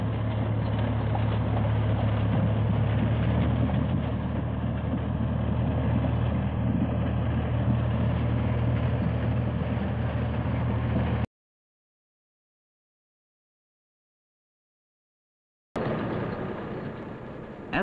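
A 1974 Standen sugar beet harvester runs with a steady, heavy mechanical drone and rumble of engine and elevator while working and unloading its beet tank, broken by a few seconds of silence before the loud machinery resumes.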